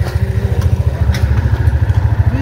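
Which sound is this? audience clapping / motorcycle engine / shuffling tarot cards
motorcycle engine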